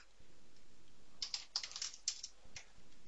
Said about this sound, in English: I can type in the description.